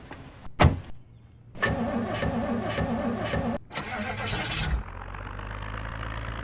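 A car engine in the Project Zomboid video game: a sharp click, then the starter cranking and the engine catching, settling into a steady idle rumble, close and moderately loud.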